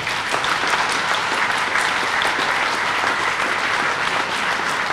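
An outdoor audience at a Kharkiv city day celebration marking the 370th anniversary applauds soldiers present, a dense, steady burst of clapping from a large crowd throughout.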